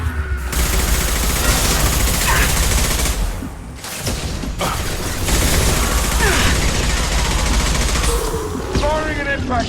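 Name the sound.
heavy gunfire in the video game Mass Effect 2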